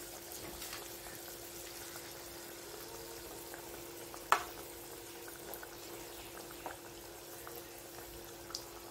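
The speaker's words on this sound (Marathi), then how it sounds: "आता आपण वडे सोडून घेऊया।" Vada fritters fry in hot oil over a low flame, giving a faint, steady bubbling sizzle with a single sharp click partway through, heard alone without talk.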